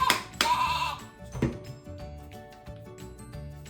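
Sheep bleating: a couple of sharp, wavering bleats over a light music bed, fairly close and loud at first, then quieter.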